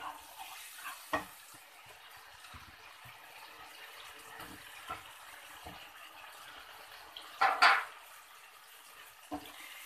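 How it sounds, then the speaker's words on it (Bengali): Chopped tomatoes are stirred into a bubbling spice mixture for tomato chutney. Soft, sparse spoon scrapes and taps sit over a low, quiet sizzle, with one louder scraping burst near the end. "এবার এটা ভালো করে নাড়িয়ে নেব যাতে টমেটোর একটা স্মেল আছে আর মশলাটা ভালো করে মিক্সড হয়ে যায়"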